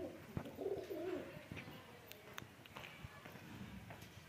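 Pigeons from a Diwan Sahib strain coo in low, throaty rolling calls close by, over a background of light rustling and scattered taps.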